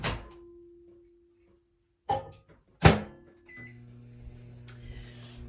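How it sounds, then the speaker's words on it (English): A microwave oven holding cold water chimes, then its door thunks shut and clunks, followed by the low steady hum of it starting to run. "I'm going to put it in the microwave for 2 minutes to heat it."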